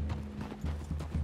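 Horse hooves clip-clop in Red Dead Redemption 2, an even run of close, soft hoofbeats.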